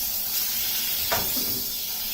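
Beef steak ends are seared in a hot pan for beef wellington, producing a steady frying hiss with one brief, sharper sizzle flare near the middle and no voices.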